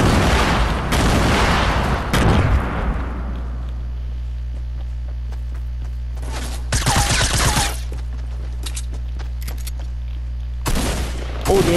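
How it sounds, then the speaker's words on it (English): Shotgun blasts in the Fortnite video game, a cluster of loud bursts at the start followed by two more sharp bursts later, with a steady low hum in between. "this guy has a shotgun"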